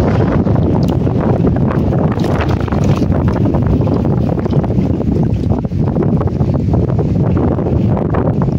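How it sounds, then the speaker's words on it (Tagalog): Strong wind buffets a boat as rain threatens, a loud continuous roar with gusting rushes close to the microphone. "Lakas na ng hangin."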